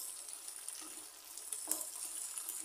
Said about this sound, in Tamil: வெங்காயம் வந்து கொஞ்சம் நல்லா வதங்கட்டும்.